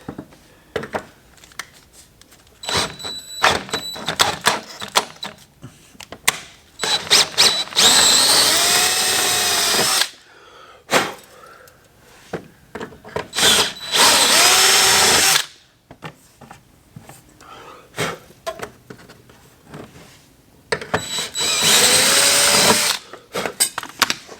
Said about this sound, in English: I guess we just drill a 5/16 hole and hope for the best.